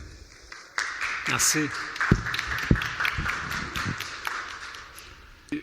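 Applause at a dental symposium in Trois-Rivières welcomes a speaker to the stage: moderate, scattered clapping from a modest audience that swells and then tapers, with a brief spoken word near the start.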